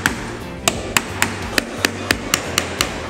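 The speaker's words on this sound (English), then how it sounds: "I'm actually holding the hammer lower down like this to make it easier to do." Sharp hammer taps ring out while an architrave is installed, about ten crisp strikes in a fairly steady rhythm over a low background hum, close and distinct with no talking.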